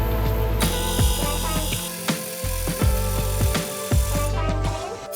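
An angle grinder works new rust-repair patch panels on the underside of a 29-year-old BMW E39, cutting in and out in short bursts with mechanical clatter between passes.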